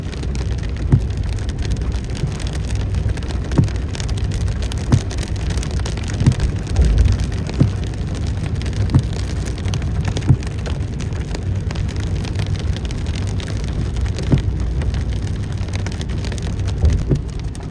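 Steady heavy rain patters on surfaces around in Makkah, with scattered louder drops and a low rumble underneath; no voices.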